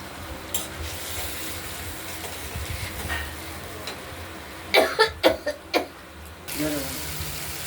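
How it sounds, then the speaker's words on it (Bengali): Water is poured and splashes into a pan of fish curry with spiced masala and turmeric, a short burst of liquid sounds in the middle, close and moderately loud over steady kitchen background. "এবার আমরা জল দিয়ে দেবো"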